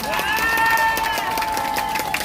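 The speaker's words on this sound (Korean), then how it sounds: "박수." At a rally and march outside Gwacheon police station, a crowd claps and cheers for the police, with loud, dense applause, whistle-like tones and shouts mixed in throughout.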